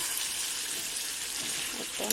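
Water is poured into chicken kasa curry cooking in a pan, producing a steady broadband hiss and sizzle that runs throughout, with a faint voice near the end.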